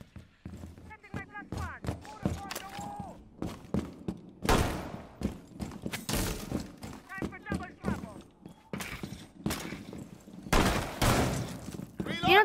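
Rapid bursts of video game gunfire crack out in short, spammy volleys among other clattering game effects, with players talking over the action.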